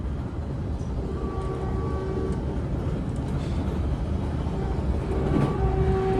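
Heard from inside a southbound Caltrain express car running from Millbrae toward San Jose, a steady low rumble and rattle of wheels on rails continues throughout, with faint squeals and clicks over the constant roar and no talking.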